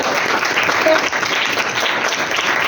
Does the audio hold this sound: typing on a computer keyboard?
no